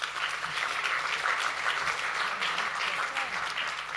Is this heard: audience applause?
yes